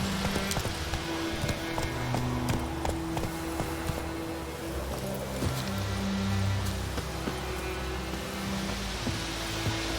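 Horse galloping in The Witcher 3, rapid rhythmic hoofbeats clip-clopping steadily and fairly close throughout, with faint background ambience.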